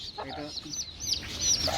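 A hen with five chicks, offered for sale, gives a short run of close clucks, with high chick-like peeps over it and some background voices.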